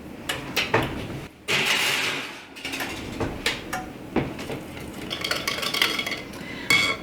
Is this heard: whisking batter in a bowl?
yes